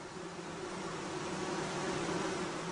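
Honeybees from a hive buzz in a steady, dense drone, close and continuous with no pauses or voices.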